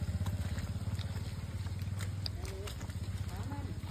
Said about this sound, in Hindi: यहाँ के लोकल जो बाइकर्स है वो तो बाइक से जा रहे हैं कीचड़ उड़ाते हुए